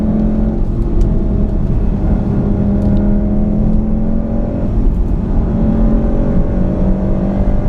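A 2015 Volkswagen Golf R engine with a dual-clutch gearbox pulls hard and rises in pitch with a whirring intake note, loud and close, with a faint ticking over the top.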